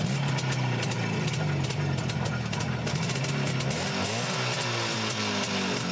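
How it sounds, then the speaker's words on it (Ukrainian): A restored motorcycle engine runs continuously in a residential courtyard, a close, loud, steady mechanical drone with a shift in pitch partway through. No voices are heard. "Сусідські дітлахи збігаються на звук мотора."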